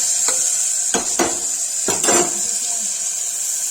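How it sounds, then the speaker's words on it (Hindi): Onion frying with cumin seeds in a pan for Kashmiri matar pulao, a steady sizzle broken by several louder scraping stirs of a utensil against the pan, close and continuous. "जीरा डाल दिया तो इसमें डालेंगे प्याज, भून जाएगा।"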